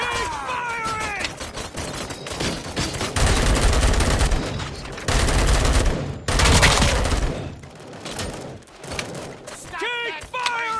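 RoboCop: Rogue City gunfire on PS5: sustained, loud volleys of shots pound almost continuously, with brief lulls, under shouted in-game voices and other combat noise.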